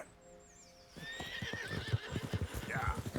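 A horse in the Red Dead Redemption 2 video game gives a long, high whinny, then hooves clip-clop in a steady, close rhythm as further whinnying rises above them, with a voice talking alongside.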